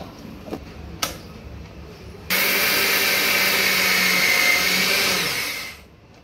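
A mixer grinder grinding rice and flattened rice for idli batter starts abruptly and whirs loudly and steadily for about three seconds, then winds down; a couple of sharp clicks come before it.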